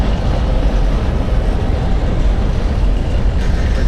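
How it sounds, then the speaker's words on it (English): A freight train rolls past close by, a loud, steady broadband rumble and rattle of wagons on the rails that fills the whole few seconds without a break. "The other thing that's nearby, freight trains, occasionally an Amtrak"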